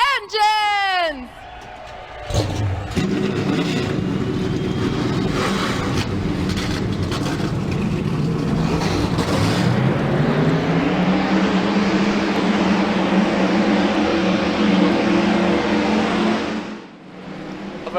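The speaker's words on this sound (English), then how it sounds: "Drivers, start your engines!" Street stock race cars fire up and rev at a winter oval race in Colorado, after a loud spoken command over a PA with rising whoops, the engines build into a dense roaring drone that fades near the end.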